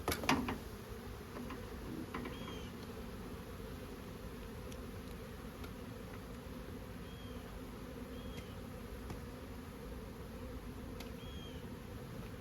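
Honey bees buzz around stacked beehive supers during honey harvest, a steady, dense droning hum with individual insects flitting close by now and then, continuous throughout and unaccompanied by speech.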